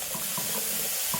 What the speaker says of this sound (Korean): 골고루 볶아주세요.